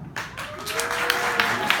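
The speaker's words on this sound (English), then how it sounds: "Go ahead and applaud for me if you're married." A comedy club audience at Ivywild applauds briefly, a dense wash of clapping sustained for about two seconds with a faint voice threaded through.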